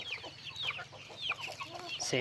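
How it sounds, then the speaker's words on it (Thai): Vietnamese dragon chickens cluck in a short, busy run of calls, close and moderately loud over a steady low background hum. "ไก่ มาจากเวียดนามไก่มังกร มันเป็นไก่มังกร"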